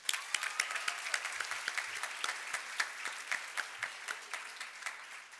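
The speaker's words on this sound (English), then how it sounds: "So a quick round of applause for our siblings." A smaller crowd claps at a Class of 2022 graduation ceremony at GEMS American Academy Qatar; individual claps stand out sharply in an irregular, fairly close patter that stays steady for several seconds.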